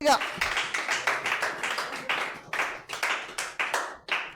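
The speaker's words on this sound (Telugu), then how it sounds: "గట్టిగా చప్పట్లు కొట్టి ప్రభుని గట్టిగా" Rhythmic group clapping at a Christian sermon, loud and close, in a steady beat of repeated bursts that carries on throughout.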